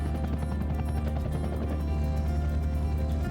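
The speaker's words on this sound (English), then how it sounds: "That's the beauty of these choppers." Helicopter in flight from inside or close beside the cabin, a steady loud rotor and engine drone with rapid blade chop running throughout, no talk over it.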